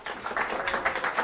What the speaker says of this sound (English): If you all clap.